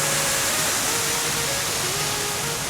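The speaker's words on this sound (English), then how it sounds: "it's really just one big waterfall" One large waterfall at an all-inclusive resort in Jamaica, heard as a steady, dense roar of falling water filling the whole moment without pause or voices.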